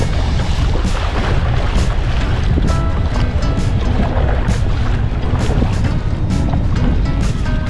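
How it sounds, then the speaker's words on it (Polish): Strong wind roars and buffets the microphone during sea kayaking off Orebić, Croatia, a continuous loud rush with water and wave noise throughout. "A my nadal walczymy z wiatrem."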